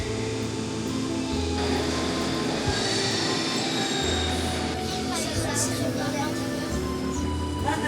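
A Paris metro train rumbles through a station near the Eiffel Tower, its steady rolling drone topped by high wheel squeals and screeches, with faint voices in the background.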